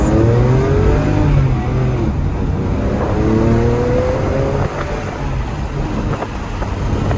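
A 2009 Porsche 911 Turbo accelerates hard on an open road. Its engine note climbs in several rising sweeps as it pulls through the gears, loud and steady from inside the car.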